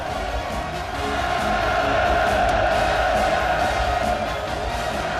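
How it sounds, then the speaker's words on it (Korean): A large crowd at a session of North Korea's Supreme People's Assembly shouts hurrahs and cheers in one steady, dense roar that holds at full strength throughout. "그러자 여러 같은 만세 환호성이 또다시 터져 올랐습니다."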